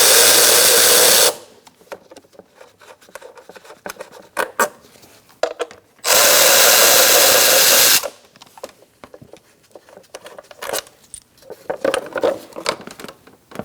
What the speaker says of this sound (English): Using a 10mm socket, we're going to take off this plastic cover with these two bolts